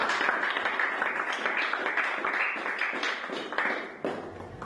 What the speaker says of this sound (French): Je vous prie d'applaudir très très fort pour lancer ces moments.